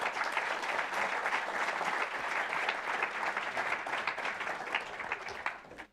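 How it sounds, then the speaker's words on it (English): Steady, dense audience applause for a panel at a sustainability and rewards conference, sustained clapping from a sizeable crowd that fades out at the end. "round of applause for our panel"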